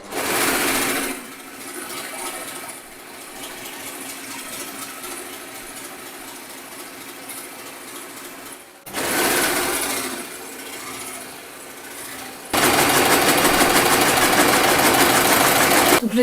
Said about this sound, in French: vous pouvez le faire avec votre machine à coudre sur le point zigzag de la machine à coudre